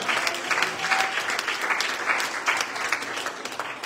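A church congregation claps its hands during a bishop's sermon, a sustained, even roar of many hands at middle distance with faint voices mixed underneath.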